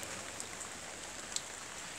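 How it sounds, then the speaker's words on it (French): Steady rain falls on a garden with filling water barrels and flowering cucumber plants, a continuous even hiss with occasional sharper drops close by. "C'était une petite vidéo sous la pluie."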